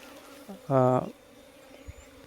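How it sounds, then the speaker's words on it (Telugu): Honey bees buzzing near flowers around a wild hive: one loud, steady droning burst lasting under half a second as a bee passes close, then fading to a quiet background. "పువ్వుల దగ్గర తేనె ఈగలు వాలుతుంటాయి"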